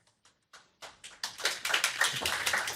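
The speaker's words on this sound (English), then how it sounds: "I didn't know you clap in press conferences." Applause at a football press conference after Spurs beat Manchester United 1-0, starting with a few scattered claps and swelling quickly into steady, fairly close clapping from a small room of people.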